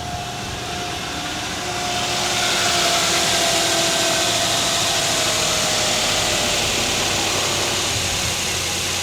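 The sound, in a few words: 4th Gen Toyota 4Runner engine running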